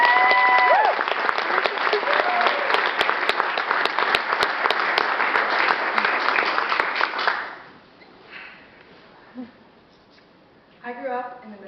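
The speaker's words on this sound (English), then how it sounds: "So, round of applause for Alexia Cooper." An audience at a TEDx talk on permaculture breaks into a loud, dense round of applause that holds steady for several seconds, then stops abruptly and gives way to a quiet room with faint stray sounds.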